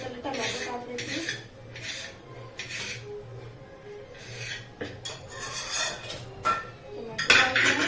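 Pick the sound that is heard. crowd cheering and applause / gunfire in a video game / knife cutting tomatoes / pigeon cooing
knife cutting tomatoes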